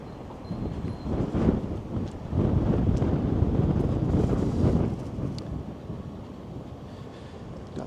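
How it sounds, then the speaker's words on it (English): Gusty wind on a cold Toronto street in Little Portugal, a broad roaring rush that swells and eases in waves, buffeting the microphone with no talking. "Some gusty winds, definitely making it feel like minus double digits."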